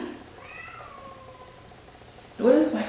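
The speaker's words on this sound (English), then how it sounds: "What is my cat wanting?" A cat gives one drawn-out meow that falls in pitch, faint and fairly near, and a person's voice cuts in just afterward.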